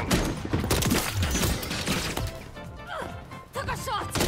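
Gunfire in a Call of Duty Modern Warfare 3 match: a cluster of sharp shots early on, then scattered impacts under voices and radio-style game callouts.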